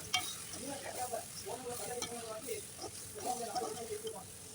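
Okra sautéing with rock salt in a pan for a tamarind kuzhambu: a soft, low sizzle with faint stirring runs underneath a person talking throughout.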